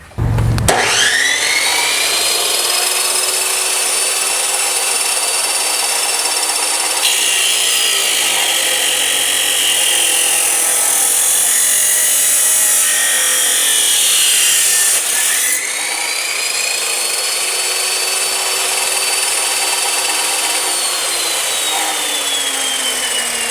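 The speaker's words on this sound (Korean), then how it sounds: "45도로 설정한 후 절단을 한번 해보겠습니다" A 14-inch XCORT high-speed cut-off saw spins up and cuts through a workpiece set at a 45-degree angle, giving a loud, continuous abrasive whine that shifts pitch as the blade bites, runs down briefly, then carries on steadily to the end.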